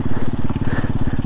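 A quad bike engine being driven across a field by a novice rider, chugging loud and close in a fast, steady pulse with slight wavering in revs.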